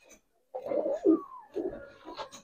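Giribaz silver-colored pigeons coo in a few low, throaty bursts at close range, with short pauses between calls and no talking.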